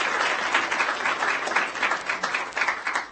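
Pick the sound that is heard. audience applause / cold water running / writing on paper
audience applause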